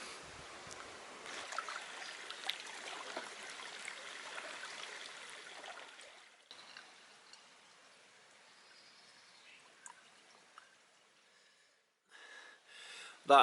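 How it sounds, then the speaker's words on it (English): On a hike, stream water is filtered through a packable water filter. Faint, steady trickling and splashing water runs close by, then drops quieter before a few brief handling sounds at the end. "so yeah, I'm going to filter some water now."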